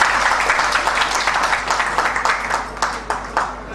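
An audience at a French association's health event applauds an honoured guest, a dense burst of clapping that holds for a few seconds and then thins out toward the end.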